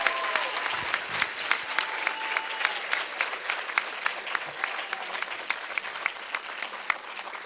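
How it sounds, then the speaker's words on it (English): Crowd applause for a fall festival pageant queen and her court, a continuous field of many hands clapping with distinct sharp claps standing out close by, steady and moderately loud throughout. "let's give them a big round of applause"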